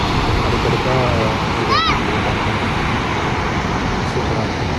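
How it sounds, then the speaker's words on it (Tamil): Pykara Falls, a tiered waterfall in the hills near Ooty, roars as a constant broadband rush throughout, loud and unbroken, with a brief distant chirp or whistle partway through. "இதுதாங்க அந்த நீர்வீழ்ச்சி பயக்கரா ஃபால்ஸ்."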